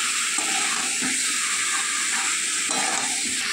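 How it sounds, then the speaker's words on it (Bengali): Country chicken curry fries in a pan while being stirred, a loud continuous sizzle and hiss with soft scraping of the spoon underneath. "ভালো করে নেড়ে কষিয়ে নেব।"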